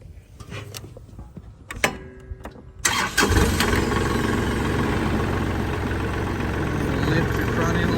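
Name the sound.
Kubota tractor engine starting and idling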